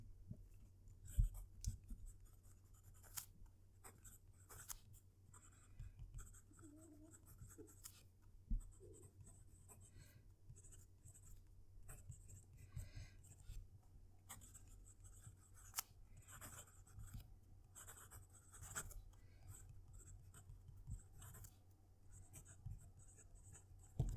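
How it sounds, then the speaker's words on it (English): A Moonman M8 fountain pen scratching across paper, heard close up with the microphone near the page: faint, steady nib strokes and small taps over a quiet room hum, with no talk. "I'll move the mic close to the paper so you can actually hear the pen write."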